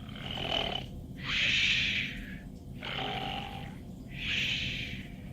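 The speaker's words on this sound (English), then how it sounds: "Chaucer's parents closed their eyes and began softly snoring." Bears softly snoring during a winter nap, slow rhythmic breaths in four drawn-out, raspy swells with pauses between, quiet and close.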